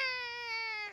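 A cartoon baby wails in one sustained, bright, steady cry that fills the whole second and breaks off at the end. The baby is from a Peppa Pig episode.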